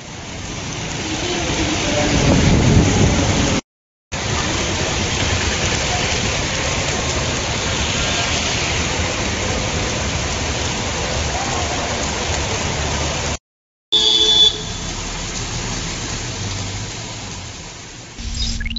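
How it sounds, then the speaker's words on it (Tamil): Heavy rain poured steadily through the streets of Puducherry in the early morning, a dense, loud, continuous wash of noise broken by two brief cuts. "ஞாயிறு அதிகாலை புதுவையின் பல இடங்களில் கனமழை வெளுத்து வாங்கியது."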